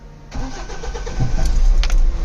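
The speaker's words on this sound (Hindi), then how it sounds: "तो देखिए गाड़ी हो चुकी है स्टार्ट।" A Mahindra BS6 CNG pickup with an issue cranks with a sharp starter burst and catches, settling into a loud, rough idle close by.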